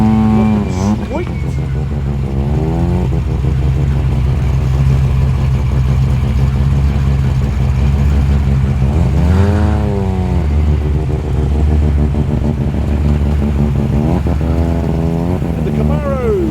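Tuned muscle cars rolling into the Cars Under the Stars meet in Penrith, heavy engines rumbling loudly and close, with a throttle blip and rising rev near the middle, and voices talking over the din.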